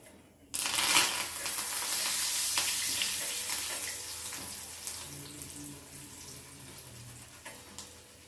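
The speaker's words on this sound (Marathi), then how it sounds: "आता हे कडीपात घेतलेला आहे तोही तळून घेऊ" Curry leaves for a Pune-style Lakshminarayan chivda hit hot oil with a sudden loud burst of spluttering sizzle that gradually settles into steady, softer frying, with a few faint clicks of a stirring spoon.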